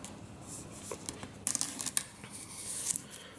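A board game box is unboxed by hand, with quiet crinkling and tearing of plastic wrap and packaging. Brief rustles and crackles come in clusters close by, with no talk.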